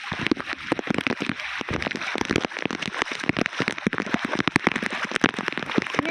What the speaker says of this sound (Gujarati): ને આજ ઉકળાટ સવારનો ઉતો ને એ પ્રમાણે વરસાદ આવેલો.